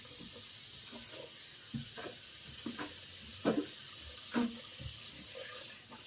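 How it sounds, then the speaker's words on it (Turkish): Water splashes and runs steadily across a balcony floor being washed, with occasional louder sloshes and scattered knocks over a constant wash of spray. "Şimdi balkonum yıkansın arkadaşlar."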